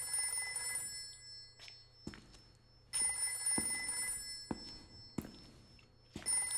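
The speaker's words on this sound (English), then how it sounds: "Some kind of ringing." A telephone rings in the survival-horror video game Haunting Ground, its bell sounding in repeated bursts over a low ambient drone, with heavy thuds landing between the rings.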